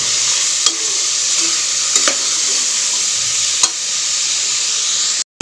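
Food sizzles and fries continuously in a pan while being sautéed until it changes colour, a steady close hiss broken by a few sharp stirring clicks from a utensil against the pan, with no talking.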